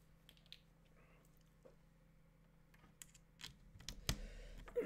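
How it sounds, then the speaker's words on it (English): Typing on a computer keyboard during a live work session, heard as scattered soft clicks and taps that grow louder and denser toward the end, with no talking. "some of you are listening to me typing while you're working"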